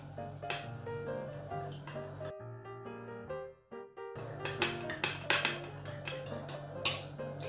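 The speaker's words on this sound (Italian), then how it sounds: "E mescolo tutto." Zucchini being stirred with white wine vinegar in a bowl, making clinking and scraping of a utensil against the bowl over a steady background hum, with a short quieter pause midway and busier clatter afterward.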